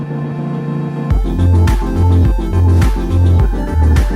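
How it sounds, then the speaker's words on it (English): Guitar music with a steady, repeating low-note pulse, fairly loud and continuous, with no talking. "my husband was playing the guitar while I was doing this video."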